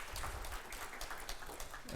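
Audience applause after a conference talk at Testwarez 2019, a continuous patter of many hands clapping at moderate distance, fairly quiet, with no speech over it.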